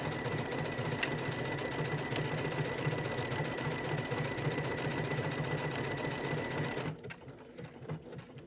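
A sewing machine runs a continuous tapering stitch, a steady close mechanical whir with rapid needle rhythm for several seconds before stopping abruptly near the end.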